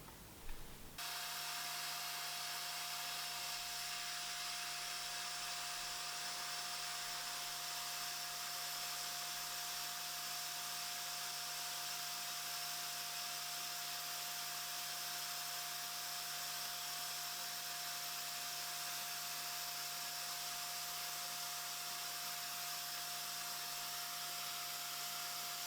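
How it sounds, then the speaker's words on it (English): A vacuum cleaner starts up and runs continuously with a steady high whine, close by, sucking up model railway ballast with faint rattling of small debris underneath. "I'll turn the vacuum cleaner on and we'll have a go at cleaning this up."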